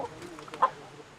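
A hen lets out a single short cluck over faint background noise, one of about a hundred chickens a man carries each day near the Colombian border.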